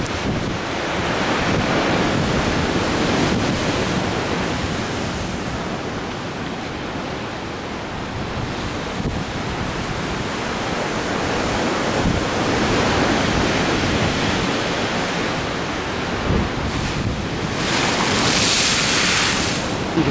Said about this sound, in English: it's really stormy over the Atlantic, and it's breaking over the breakwater here.